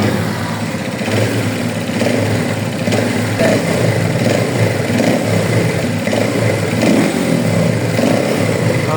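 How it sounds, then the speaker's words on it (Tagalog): A Rusi Flash 150 motorcycle with a remapped ECU runs close and loud, its engine note rising and falling as the throttle is revved repeatedly over a steady idle. "pag uh, nire-rev natin yung throttle"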